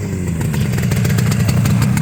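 1978 Yamaha RD400 two-stroke motorcycle on its stock factory exhaust, idling close and loud with a fast, even, crackling pulse, steady throughout.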